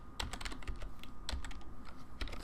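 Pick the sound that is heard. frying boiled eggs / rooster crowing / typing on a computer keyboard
typing on a computer keyboard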